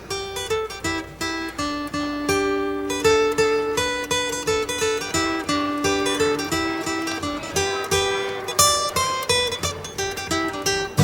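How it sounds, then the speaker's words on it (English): A buzzy, reedy kazoo plays a bouncy tune with short repeated notes, loud and close, no voices. "Now I'd like to play the kazoo for you"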